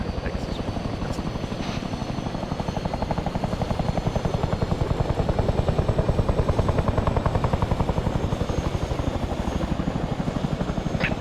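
A Chinook helicopter in the military game Arma 3, with rotor blades thudding in a loud steady rapid pulse throughout and a constant engine whine beneath, no talk over it.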